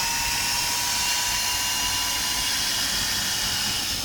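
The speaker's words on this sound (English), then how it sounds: "Let's try removing this in gear 1." Fein ASCM 18QX cordless drill running in gear 1 while backing out a screw, a steady high whirring motor drone held without pause, close and fairly loud, with no talking.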